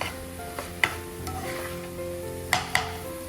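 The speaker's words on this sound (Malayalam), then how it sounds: "ഇതെല്ലാം ചേർത്ത് നന്നായി ഇളക്കി ചേർത്ത് കൊടുക്കാം" Shawarma filling with added sauce is stirred in a pan over a soft, continuous sizzle, with a few sharp knocks and scrapes of the spoon against the pan and no voices.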